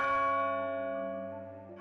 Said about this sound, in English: And as the bell's last pealing faded into silence